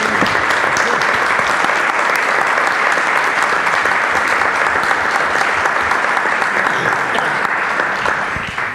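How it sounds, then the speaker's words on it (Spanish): An audience applauds steadily and loudly to close an environmental forum panel on post-catastrophe reconstruction, the dense clapping sustained evenly throughout before tapering slightly at the very end. "Si no, cerramos con un aplauso, agradecimiento."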